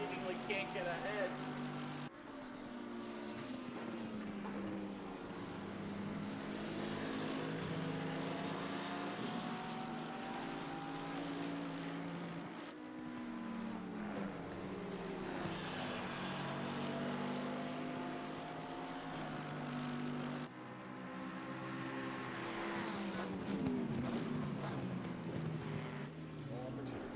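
Race car engines droning around Laguna Seca in Assetto Corsa Competizione, including a wide Porsche, with rising and falling engine whines layered over one another as cars pass, under continuous commentary.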